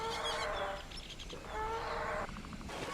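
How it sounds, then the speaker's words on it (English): Loud, strained cries of a distressed dinosaur in the video game Jurassic World Evolution, in long, wavering bursts that rise and fall, repeated with little pause. "the panicked calls of a fellow herd member"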